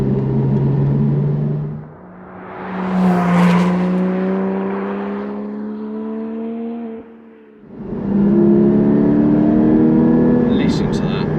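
Porsche Cayman 718 GT4 engine accelerating hard, revs climbing in long rising sweeps, a brief dip at a gear change, then pulling up again, loud and close from inside the car.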